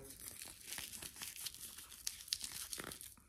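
Crinkling, tearing noise of backing being peeled off a hook and loop fastener, close up and continuous, with small sharp rips scattered throughout.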